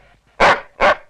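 A dog gives two loud, close barks about half a second apart, with a short quiet gap between them.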